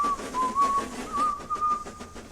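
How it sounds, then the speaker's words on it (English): A steam locomotive whistle from a Trainz train simulator sounds in a steady, cheerful tone with slight pitch wavers, close and fairly loud over a low rumbling background. "Echoing around the mountain and getting closer was a cheerful whistle."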